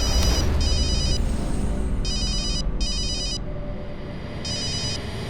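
A telephone rings in an indoor scene with several short electronic bursts, a pair, then a pause, then more. The rings come over a low background rumble.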